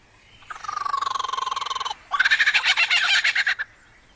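A lyrebird imitates a kookaburra's rapid, rhythmic call, first a steady chattering trill, then a louder burst of cackling pulses, close and clear with no talking.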